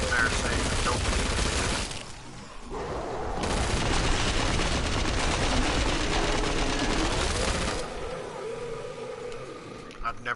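P90 submachine gun fire in Killing Floor 2, a dense, sustained rattle of rapid shots that runs almost nonstop across the stretch, briefly pausing then resuming, loud and close amid chaotic game noise.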